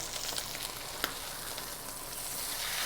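Butter melting in a hot pan ahead of searing a wagyu steak, a dense continuous sizzle and spatter close by, with one sharp pop near the start and the hiss building slightly toward the end.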